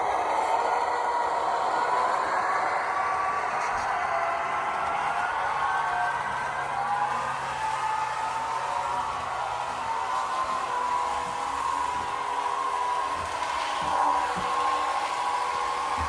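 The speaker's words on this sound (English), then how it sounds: "We're going to see first how fast it'll go around the track." An Athearn SW1500 model locomotive runs around a layout track, producing a steady, fairly loud motor whine whose pitch slowly rises and falls over sixteen seconds, with no voices.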